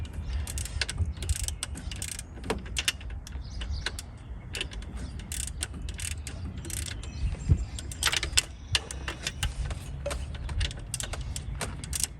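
Ratchet wrench turning a 14mm deep socket on the alternator bolt of a Toyota Corolla, quick quiet clicking bursts with small metallic knocks and tool handling, close and faint, no voices.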